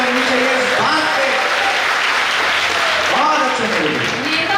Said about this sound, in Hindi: बस जोरदार तालियां पीछे तक लगनी चाहिए इस बात पे